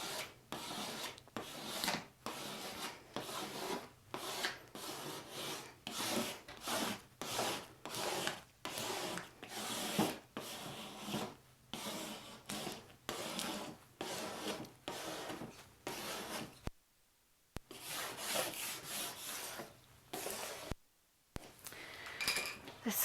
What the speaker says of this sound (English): we take our, what they call a scraper, and we're going to smooth it out.